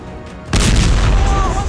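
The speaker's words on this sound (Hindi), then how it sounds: "इसके बाद एक हल्के धमाके की आवाज आती है।" A sudden boom from a Hamas mortar strike near a building erupts after a quiet moment, loud and rumbling, then trails off into a sustained low roar.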